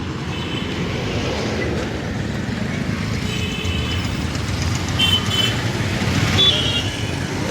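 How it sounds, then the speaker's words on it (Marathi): Morning street traffic with auto rickshaws near metro construction work in Kalyan, a dense, continuous roar of engines and passing vehicles with occasional horn-like tones, steady throughout. "सकाळ सकाळी रिक्षावाल्यांची ट्रॉफिक वगैरे असते तशी."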